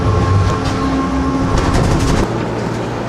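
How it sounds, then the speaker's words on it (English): A train in Japan rumbles steadily close by, with a continuous low mechanical hum and rolling noise that drops slightly in pitch near the end, no voices present. "We just got off of that train."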